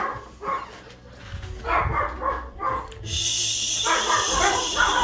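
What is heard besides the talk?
dogs barking indoors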